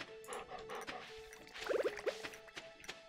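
A dog in the Stardew Valley video game gives a few short whimpers and yips over steady, soft game music with light dripping ticks.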